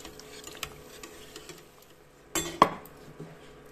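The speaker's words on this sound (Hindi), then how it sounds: "अब इसको हम एक टिश्यू पेपर पे निकाल लेते हैं" Fried pakoras lifted from a pan of hot oil onto tissue paper, with a few light metallic taps and clinks of a utensil against the pan and one sharper scrape-clatter near the end.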